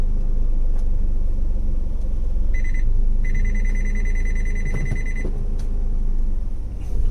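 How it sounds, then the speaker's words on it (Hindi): A 2020 Maruti Alto 800 CNG BS6 idles with a steady low engine rumble while its reverse gear warning sounds as a loud, sustained electronic beep tone, starting briefly and then holding for a couple of seconds. "ये जो बैक गियर दिया, साथ ही साथ आपको एक बीप आएगा, ये वाला बीप।"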